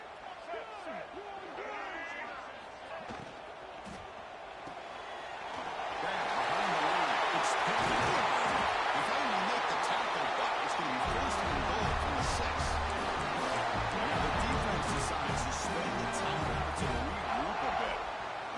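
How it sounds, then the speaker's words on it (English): A stadium crowd at an American football game involving the Seminoles swells into a loud, sustained roar during the final possession near the goal line, and a commentator talks over it. "The crowd now trying to make a difference here in the final possession."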